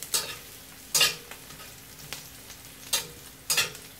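Garlic frying in a pan with onions and chile strips, a steady soft sizzle broken by several sharp scraping stirs of a utensil against the pan, close up with no talk.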